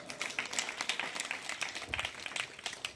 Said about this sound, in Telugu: అందులో చప్పట్లు కొట్టండి అండి